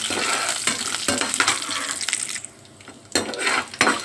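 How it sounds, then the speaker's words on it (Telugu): Green chilies, dry chilies, curry leaves and cashews frying in oil for coconut rice, a loud, close crackling sizzle with stirring clatter and a brief lull before it flares again. "పచ్చిమిర్చి, ఎండుమిర్చి, కరివేపాకు, కాజు కూడా వేసాను. అన్నీ ఫ్రై చేయాలండి."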